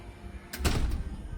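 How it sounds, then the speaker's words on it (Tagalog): A door slides shut with a quick thud and a short rattle, loud and close, in a room with the air conditioner running. "Sarado mo yung pinto."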